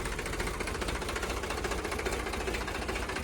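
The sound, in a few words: Sonalika 60 tractor engine running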